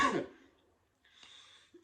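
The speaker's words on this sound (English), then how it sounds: "got a bit of a cough" A single short cough bursts out at the start from a man in an indoor setting, followed by a quiet pause and a faint breathy rustle.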